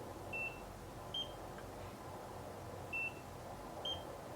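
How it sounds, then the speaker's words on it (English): Two pairs of short, high electronic beeps from a NIRA laser device, quiet and close, over a steady low hum. "2 beeps."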